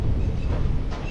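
A Kacheguda–Medak passenger train of Indian Railways rolling into Medak station, producing a steady, close low rumble with faint rail and wheel noise and no voices.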